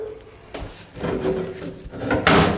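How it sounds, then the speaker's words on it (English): A Halligan bar forces a door open during a forcible entry drill. Several dull knocks and creaks of wood and metal come close by, and the last strike is the loudest. "you spin your Halligan so the adze is now up against the door, and you finish your force"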